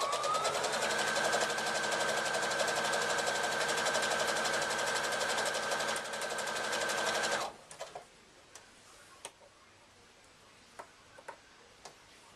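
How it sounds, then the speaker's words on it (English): A sewing machine stitches straight down the edge of a fabric handbag handle, a loud steady close-up whir for over seven seconds, then stops, leaving faint scattered clicks and handling sounds. "sew straight down the edge"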